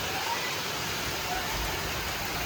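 Rain pours steadily outdoors, a dense even hiss of falling water mixed with gusty wind, close and unbroken for the whole stretch.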